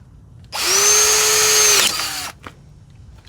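A power drill with a 5/16 bit boring out a stripped brake caliper bolt on a Jeep Wrangler, loud and close, a steady high whine lasting over a second that then dips in pitch and stops.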